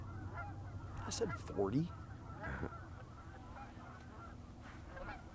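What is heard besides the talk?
geese honking in a snowy field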